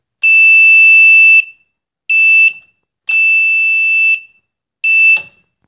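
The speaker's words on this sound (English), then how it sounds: "alarm will go off when the dipstick level of the oil drops down to a certain point" A loud, piercing electronic oil level warning alarm in a Kitfox 5 aircraft with a Yamaha RX-1 Apex engine buzzes in four bursts of varying length separated by brief silences, close and harsh.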